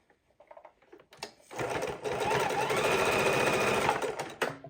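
After a few soft clicks and taps, a sewing machine starts up and stitches a piece of shoelace onto a quilt steadily for a few seconds with a rapid, whirring rattle.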